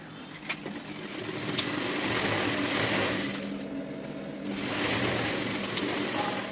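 A sewing machine stitches blouse pieces together with a steady, moderately loud whirring hum that swells and eases slightly as the stitching runs continuously, with no talking.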